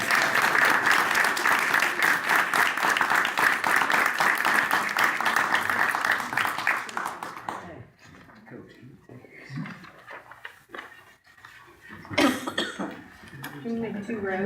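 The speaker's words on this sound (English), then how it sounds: "Round of applause for our officers." Loud round of applause for officers at a board meeting, dense clapping that runs for about seven seconds before dropping to scattered coughs, chatter and room noise.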